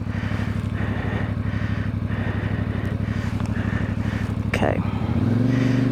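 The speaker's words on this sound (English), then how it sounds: "Let's just see if I can give you a little demonstration of what I mean up through the gears." A CFMoto 450MT motorcycle runs with a steady, close engine note that climbs sharply near the end as it pulls away under throttle, with one brief spoken word.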